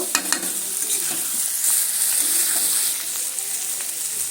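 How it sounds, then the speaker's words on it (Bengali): Potato katli (spiced potato mixture with coriander) sizzling steadily in a pan, with faint scraping stirs and crackles throughout; no talking. "ভেজে নেব"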